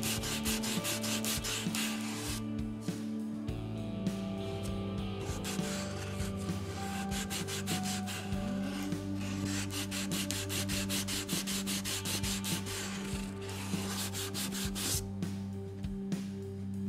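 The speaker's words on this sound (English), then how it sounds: "the area in the neck pocket can be a little tricky to sand" Steady hand sanding of a guitar neck pocket on a Telecaster-style partscaster body, a continuous scratchy rubbing of sandpaper on wood that runs close and fairly loud with rhythmic back-and-forth strokes and no talking.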